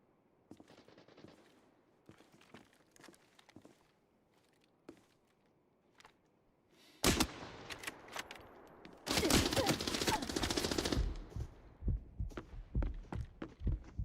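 Rapid bursts of AK rifle fire in a video game, loud automatic volleys erupting after quieter scattered shots and clicks, then dropping back to sporadic taps; no talk over it.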